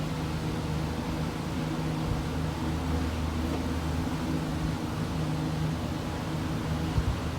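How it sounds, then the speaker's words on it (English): Electric fan running steadily on a boat during repair work, a constant even whooshing hum with a faint low drone, close and unchanging throughout, with no talk. "Sorry for the noise from the fan."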